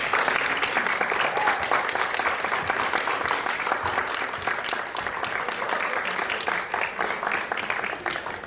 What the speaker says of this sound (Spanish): Recibamos con un gran aplauso a la profesora Bastardo.